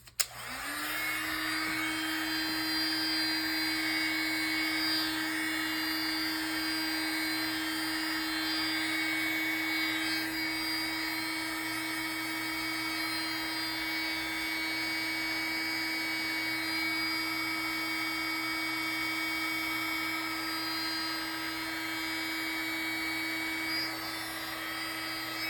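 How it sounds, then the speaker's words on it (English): A heat gun switches on and runs continuously at close range, with a sharp start and then a steady, even whirring fan roar with a tonal hum that holds at one pitch to the end. "I'm just going to grab the heat gun. I was trying not to do it because I don't want it to be loud on camera"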